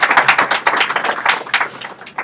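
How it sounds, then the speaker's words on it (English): An audience at a tech conference session breaks into brief applause, a close, dense patter of many hands clapping that thins slightly toward the end, with no talking. "that seemed like obligatory applause"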